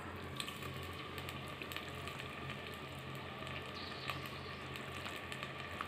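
Marinated chicken fries in oil inside a pressure cooker, giving a steady, quiet sizzling hiss with faint crackles and no voices.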